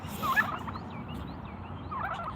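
A turkey tom gobbles at a farm during morning chores, with a faint, brief rattling gobble over steady outdoor background noise and a second softer burst near the end.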